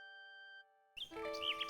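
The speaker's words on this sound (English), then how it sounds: "A nightingale perches on a high branch of the tree. She sings the most beautiful song Alexander has ever heard." A nightingale sings in King's Quest VI, quick bright chirps and trills following a held synthesized chord that cuts off, clear and close with no talk.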